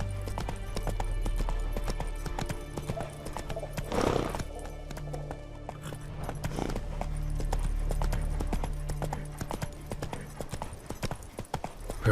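In The Witcher 3, a horse gallops with rhythmic clip-clop hoofbeats, moderately loud and close, and a brief whinny partway through, with faint game ambience underneath.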